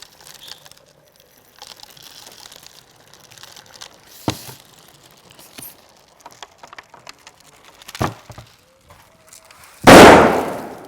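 After quiet rustling and a couple of sharp knocks, a plastic bottle being filled during an experiment bursts with a single loud, close bang near the end.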